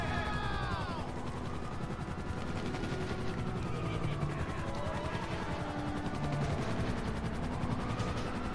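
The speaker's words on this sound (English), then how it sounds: "I like how the chopper's just right there." A helicopter in GTA V hovers close by with a dense, continuous rotor chop, under bursts of gunfire and a steady rumble of game noise.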